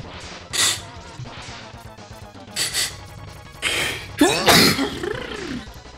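A single sharp sneeze bursts out loud and close at around four seconds, preceded by a few short throat-clearing noises and breathy sounds.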